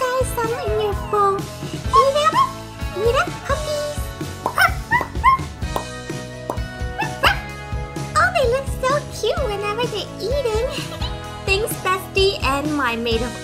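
Hungry new puppies whimpering and yipping in a rapid, high-pitched jumble of short cries, close by, with people talking and background music running throughout.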